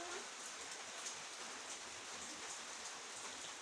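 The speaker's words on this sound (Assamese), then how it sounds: "কিবা চাওক বৰষুণ পৰি আছে" Steady rain falls outside a house, a dense even hiss of drops on surfaces that stays constant and fairly faint throughout.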